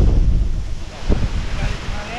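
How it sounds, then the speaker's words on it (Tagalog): Strong gusts buffet the microphone with a rough, loud roar, continuous and blustery throughout. "Lakas ang hangin eh!"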